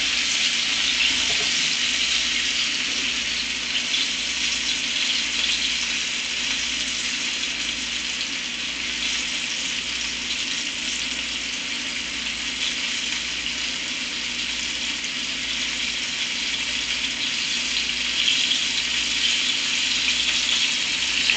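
Chicken sizzles and fries in a cast iron skillet over medium-high heat, a loud, steady hiss that continues unbroken throughout.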